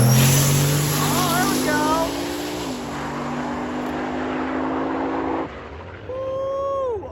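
A turbocharged LS-swapped Pontiac Firebird drag car launches down an eighth-mile strip at a Michigan drag-and-drive event, its engine roaring loud and close and rising in pitch before dropping away, with crowd voices and another engine note toward the end.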